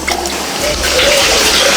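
Homemade ground coconut milk poured from a bucket into a large catering pot for paneer biryani, a steady close splashing and trickling pour with a voice speaking over it.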